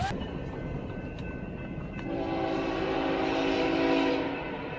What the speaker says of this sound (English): narrowly avoids a fast-approaching train at a railroad crossing